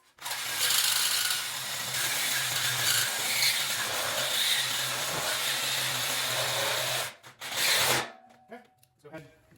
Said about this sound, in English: So, we'll pull the Sawzall.